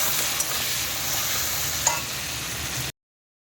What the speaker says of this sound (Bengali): দিয়ে দেবো একটু পেঁয়াজ